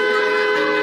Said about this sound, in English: honking the horn